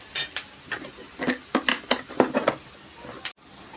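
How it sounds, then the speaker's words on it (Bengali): Onions and sugar fry in a pan while a utensil scrapes and clacks against it in a quick series of stirring strokes over a low sizzle. "পেঁয়াজগুলো লাল লাল হলে একটু চিনি দিয়ে ভালো করে ভেজে নেব।"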